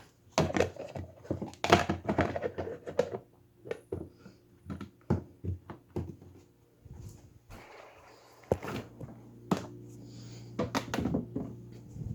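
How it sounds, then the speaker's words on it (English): Washing up and putting kitchen things away after making an omelet: irregular knocks, thunks and clatters of dishes and cupboards, with a short stretch of running water, close by and without talk. "I'm just going to wash all this stuff out and get all this stuff put away."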